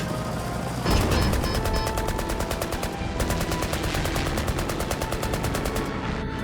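Rapid automatic gunfire from a Spanish war video game rattles in dense, continuous bursts, loud and close, with a brief break partway through before the firing resumes.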